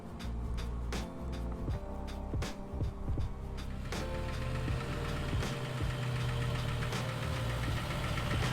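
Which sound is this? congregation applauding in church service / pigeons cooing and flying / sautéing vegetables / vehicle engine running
vehicle engine running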